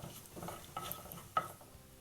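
Crushed fennel and whole spices frying lightly in oil in a pan for a chicken thokku, faint soft sizzling with a few small clinks of a spoon against the pan.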